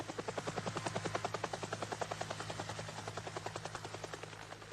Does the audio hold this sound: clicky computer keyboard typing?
no